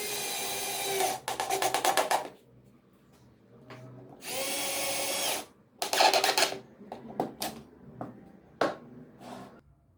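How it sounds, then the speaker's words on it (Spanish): Power drill driving screws into a guide for a circular table saw, sounding as several close bursts of whirring motor, some longer and steady, others short and stuttering, separated by quiet gaps. "pasaré a introducir los tornillos para que no se mueva."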